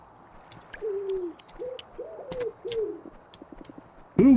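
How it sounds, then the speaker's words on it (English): A dove coos in soft repeated phrases within the ambience of the game Moonlight Peaks, mid-distance and gentle, with scattered light clicks and a louder burst at the end. "Did you hear the birds singing?"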